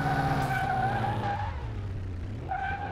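Tires squeal as a car brakes hard in Car Mechanic Simulator 2021, a loud continuous skid under engine tone that fades briefly and returns near the end.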